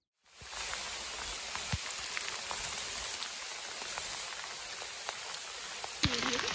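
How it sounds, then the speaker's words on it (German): Hail pelting down outdoors at a wooded castle ruin near Mengshausen, a dense, steady, hissing patter of many small impacts that starts abruptly and continues loudly throughout, with no talking. "jetzt kommt richtig schön Hagel getroppelt von oben."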